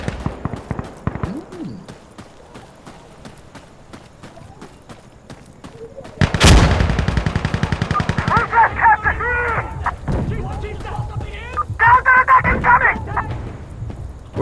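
Rifle gunfire in the video game Insurgency Sandstorm, a loud burst of rapid shots erupting mid-clip over a street firefight, followed by further crackling shots and battle noise with someone talking throughout.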